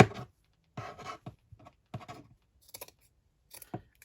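Several short, crisp snipping and rustling sounds come in separate bursts with quiet gaps between them, close and fairly soft, with no talking.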